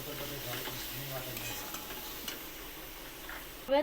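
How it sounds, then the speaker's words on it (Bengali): A spice paste of ground cumin, coriander and pepper for a katla fish kalia sizzles steadily in a pan, with soft scraping and stirring sounds and a louder clink at the end. "এই দেখুন জিরে ধনে গোলমরিচের গুঁড়োটা দিয়ে আবার কষে নেবো এভাবে আবার কষে নেবো"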